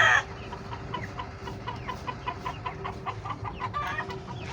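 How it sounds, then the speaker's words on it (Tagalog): Laying hens cluck in a henhouse, a close, busy chorus of short repeated clucks in uneven rhythm over a low background hum, continuing for several seconds after a brief louder burst at the start. "Pangitlogan na manok na doon."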